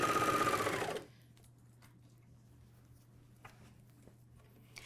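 MyLock 454D serger stitching fabric for a pajama top, a loud, rapid whirring burst lasting about a second that stops abruptly, followed by a quiet hum and a few faint handling clicks.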